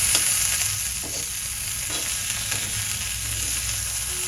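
Garlic greens fry in a hot pan with sesame seeds, a steady loud sizzle broken by a few scraping stirs, with no voices.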